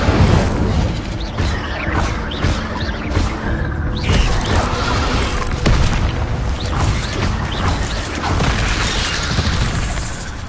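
The Incendio fire spell in Hogwarts Legacy blasts with dense, crackling booms and crashes that run continuously and loud, layered with clattering mechanical game sounds.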